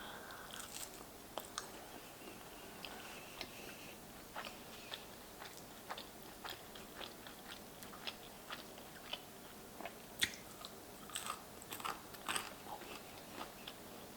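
Close, quiet chewing of crunchy fathead protein pizza crust with shakshuka topping, with repeated crisp bites and crunches in an irregular rhythm over a soft background, no speech.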